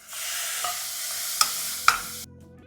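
Tomatoes sautéing in a hot pan with ginger garlic paste and cumin for a mutton white korma, loud steady sizzle with a few sharp spatula clinks, then cutting off abruptly to near silence.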